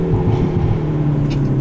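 A 2021 Hyundai Veloster N manual roars steadily at high revs at full throttle in second gear, a strong low drone with no break, close by.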